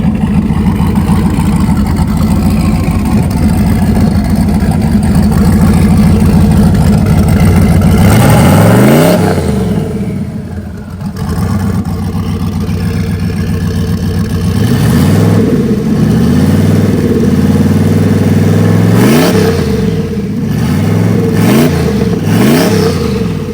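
A no-prep drag race car's engine runs loud and close throughout, with several sharp revs rising and falling over a rough, steady idle; the car is fitted with a trans brake and a Holley Terminator electronic fuel injection system.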